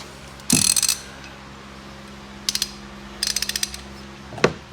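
Ratcheting bursts from a hand ratchet tightening a castle nut onto an electric ATV's wheel hub, three rapid clicking runs spaced apart with a final single clack, close and crisp over quiet hum.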